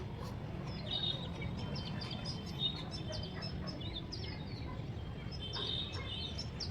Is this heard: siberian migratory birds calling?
yes